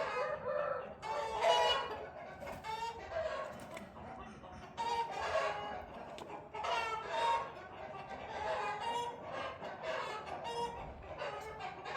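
Several heavy roosters crow loudly and repeatedly at close range, with steady clucking between the calls and a person's voice now and then.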